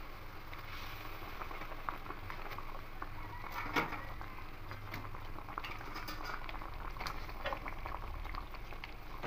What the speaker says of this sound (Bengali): জলটা ফুটে এসেছে